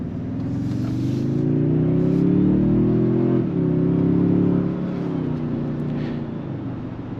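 A 2023–2025 Toyota Sequoia on the road with its transmission shifting. A steady engine hum rises in pitch, dips briefly at a gear change midway, then climbs again under continuous road noise.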